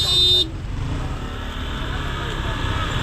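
A car horn gives one short toot in street traffic on a boulevard, then cuts off, leaving a low, steady traffic rumble.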